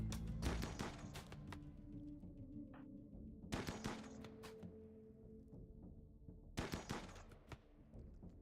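Bursts of gunfire in RimWorld, three clusters of sharp rapid shots separated by quieter gaps, fairly close with a low hum underneath.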